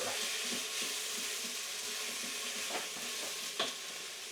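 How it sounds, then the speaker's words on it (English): Red pepper being stirred into a sizzling sweet potato and coconut curry pan, a steady frying hiss with soft rhythmic scraping of a spoon through the pan and a small clack near the end. "Give that a nice stir."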